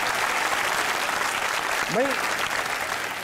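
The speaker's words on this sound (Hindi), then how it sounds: "जमात के लिए तालियां होनी चाहिए।" Sustained studio audience applause on a Pakistani comedy talk show, a dense even clapping wash throughout while someone talks briefly over it.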